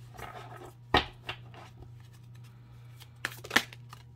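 An oracle card deck being shuffled by hand, quiet papery riffles and soft slaps with a few sharper card snaps, sparse and intermittent over a low steady hum.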